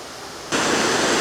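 Steady, loud rushing roar of the lower falls on Lake Superior's western shore, heard up close, with a sudden jump in volume partway through and constant broadband water noise after it.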